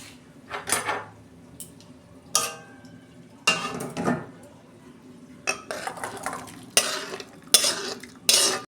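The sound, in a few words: cooked sour dish poured out of pan into dish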